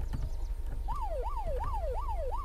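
A police car siren in the survival game Unturned rises and falls in a fast, regular wail over a low rumbling background, starting about a third of the way in and repeating steadily.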